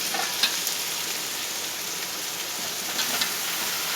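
Steady, dense sizzling from tomatoes added to frying onions in a pan, loud and close, with faint crackles and occasional stirring throughout.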